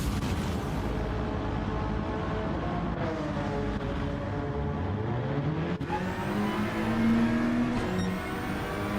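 A Gr4 race car engine in a racing video game drones continuously at high revs, with rising and falling pitch sweeps as it shifts and accelerates. A steady, loud engine tone is heard throughout.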